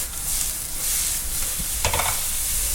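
Garlic and soy sauce fry in a pan for mushroom ramen, a loud, close, continuous hiss with a brief clatter of stirring partway through, no voices.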